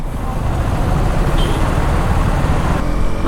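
A KTM Duke 250 motorcycle rides in track mode, its engine and wind roar filling a loud, steady, close-up rush without pauses.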